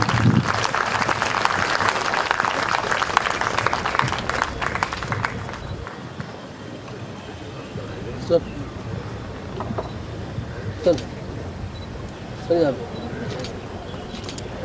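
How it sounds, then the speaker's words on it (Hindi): Audience applause at a memorial concert, loud dense clapping for about six seconds that then fades into a murmuring room with a few scattered sounds. "जोरदार तालियां होनी चाहिए लेडीज एंड जेंटलमैन"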